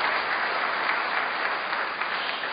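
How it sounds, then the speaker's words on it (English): Steady, dense applause from an audience at a family recovery speaker meeting, a continuous even wash of many hands clapping with no talk over it. "And that applause is for Alcoholics Anonymous,"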